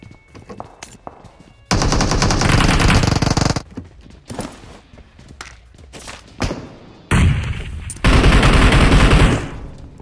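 Heavy automatic gunfire in the battle royale game PUBG, with loud sustained bursts of rapid shots broken by shorter single cracks and brief pauses, close and intense, with no talking over it.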